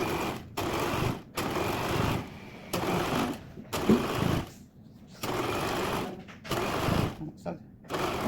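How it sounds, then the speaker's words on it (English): Home sewing machine stitching a quilted waistcoat, running in several bursts of fast, steady whirring with short pauses between runs, close and fairly loud. "So then I'm going to sew straight over that squared edge."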